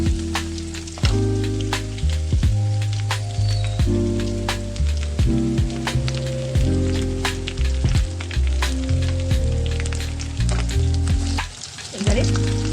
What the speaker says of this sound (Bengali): রসুনটা রাখো বেশ ভাজা ভাজা মতো হচ্ছে।